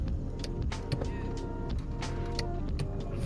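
Electric passenger seat motor adjusting in a Toyota Crown, a continuous low whirring motor hum inside the cabin, with faint clicks over it and no speech.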